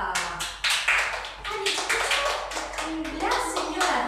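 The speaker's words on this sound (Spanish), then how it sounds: "Aplauso, aplauso." Children and adults clap in quick, uneven bursts at a diploma ceremony, close and lively handclaps repeating several times with voices talking over them.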